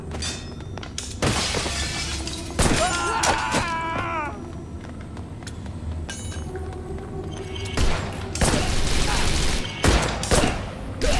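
Video game gunfire and shattering from the action game Wanted Dead fill the scene, loud bursts and breaking crashes repeating over a dense combat soundtrack, with voices calling out at times.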